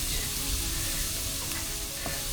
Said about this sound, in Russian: когда жарим лук или морковку